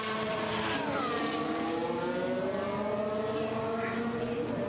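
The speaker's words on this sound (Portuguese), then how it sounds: "O Albon passou, não melhorou o tempo dele" A Formula 1 car speeds past during practice at the Bahrain Grand Prix, its high engine whine sweeping down in pitch as it passes, loud and continuous with no talk.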